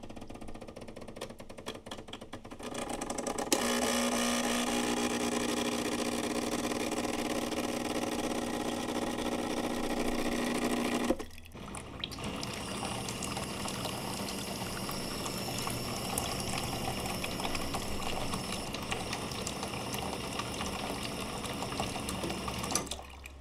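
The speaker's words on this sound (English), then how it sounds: "The Decent uses vibration pumps, Linea Mini has rotary pump." A Decent Espresso DE1 with vibration pumps runs first, giving a steady, intense buzzing hum for several seconds. It then cuts off, and a La Marzocco Linea Mini's rotary pump follows with a smoother, sustained drone under water flow and light ticking.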